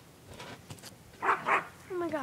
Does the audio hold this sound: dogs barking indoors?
yes